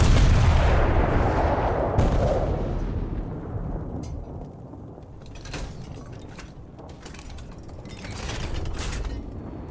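A Chieftain Mk 10 tank cannon in War Thunder fires once with a loud booming blast that decays into a long rumble, followed by mechanical creaks and clanks as the sound fades.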